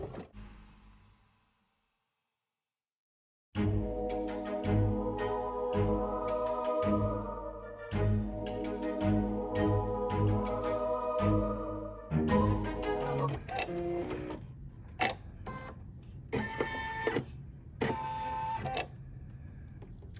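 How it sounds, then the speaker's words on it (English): An embroidery machine stitches the straight lines of a house gable, with rapid rhythmic needle chatter that starts abruptly after a near-silent pause and then shifts to sparser clicks and whirs, close and without talk. "now it's going to stitch what they're calling the gable"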